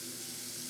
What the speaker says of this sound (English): cup of hot water coming up